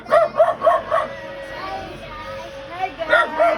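A dog barking in a neighbourhood, a quick run of four sharp barks, then a pause with people talking, and two more barks at the end, fairly close and loud.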